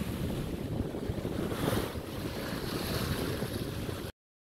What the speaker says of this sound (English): There's some wind. And there's wind to boot.